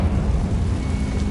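A Confringo fire spell blast in Hogwarts Legacy gives a steady, rumbling low roar that fills the whole short stretch at full loudness, with no talking.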